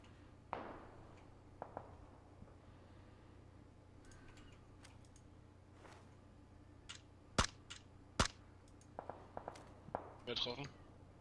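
Gunfire in the PUBG battle royale game, squad match around Pochinki: several sharp, loud shots crack out in an irregular burst over a steady low background, with scattered faint taps and a voice talking through it.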